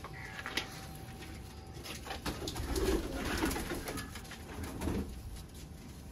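Mir pigeons coo softly and repeatedly at close range, with low throaty calls overlapping against a faint background of rustling.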